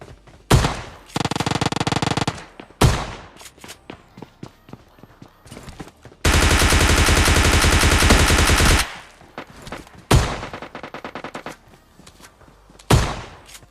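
Shotgun and automatic gunfire in PUBG Lite gameplay come as sharp single blasts spaced apart and two long sustained bursts of rapid fire, loud and close, alone.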